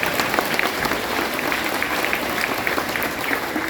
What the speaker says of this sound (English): everyone give Mr. McKinney a round of applause